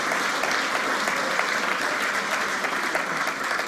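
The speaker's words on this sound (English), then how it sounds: "So big round of applause." An awards ceremony audience applauding at a national final, giving a continuous, even roar of many hands clapping with no breaks and no talk over it.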